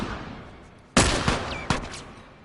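Gunfire from The Last of Us Part II: three sharp, loud shots in quick succession, the first strongest, each with a brief ringing tail, ending a headshot over quiet game ambience.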